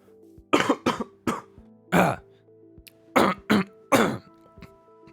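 A person coughs and clears their throat several times in short, close bursts spread over a few seconds, with quiet gaps between them and a faint steady hum behind.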